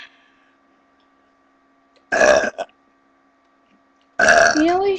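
Two loud, close, voiced burps: a short one with a brief tail, then after a pause a longer, rising belch that runs to the end; faint background hum in between.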